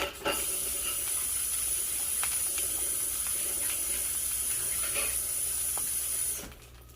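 Breakfast frying in a strong pan, with eggs, spinach and smoked fish, giving a steady bright hiss and sizzle for about six seconds, loud and close, with a few faint clicks before it cuts off.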